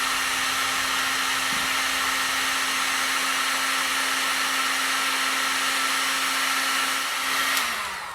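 Steady blowing whir of a heat gun running continuously while warming a plastic fuel line on a 1982 Bush Swamper, close and even, cutting off abruptly near the end.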